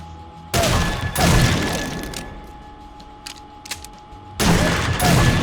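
Shotgun blasts and rapid impacts in a survival raiding game, with the weapon hitting a chest for heavy damage; loud booming bursts open and close the stretch, with a lull of scattered clanks and thuds between them.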